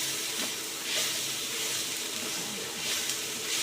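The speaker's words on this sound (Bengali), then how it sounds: "আরও ভালো করে সতে করে নেব।" Mixed winter vegetables sautéing in hot oil for veg chowmein: a steady, close sizzle with a hissing crackle and soft stirring scrapes, continuous and fairly quiet throughout.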